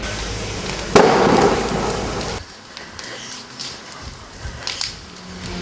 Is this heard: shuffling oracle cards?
no